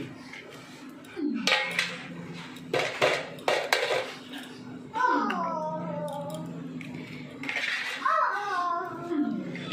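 Two eggs go into a bowl of pangas fish mixture for pakoras, with sharp clinks of utensils against the bowl in several bursts. A voice and other voices come and go in the background.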